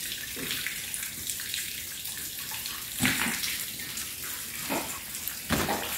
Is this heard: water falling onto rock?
yes